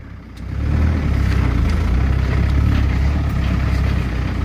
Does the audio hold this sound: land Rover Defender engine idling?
yes